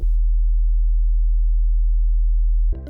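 A steady, loud 40 Hz pure sine test tone hums alone for nearly three seconds, stopping abruptly as a voice begins at the end.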